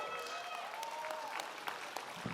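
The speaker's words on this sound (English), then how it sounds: "Clap it up, clap it up, clap it up" Scattered applause from a small crowd during a boxing fight introduction, faint and distant, with a few sharper claps standing out and some talking underneath.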